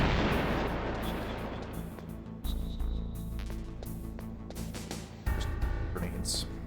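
Grenade blasts and gunfire in the stealth game Metal Gear Solid: heavy booming explosions recur, with sharp onsets around the middle and later, over a rumbling game background with some talk.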